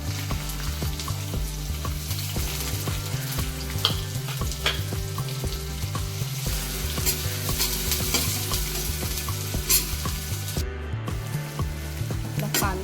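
Onion frying in a pan for a radish and dried-shrimp vegetable dish gives a steady, close sizzle with scattered clinks of stirring running throughout.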